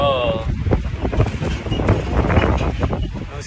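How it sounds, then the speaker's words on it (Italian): Strong desert wind of around 40-50 km/h blowing on the road toward Saudi Arabia during a sandstorm, a loud continuous buffeting roar across the whole stretch with a faint voice mixed in. "ci saranno 40-50 km orari di vento"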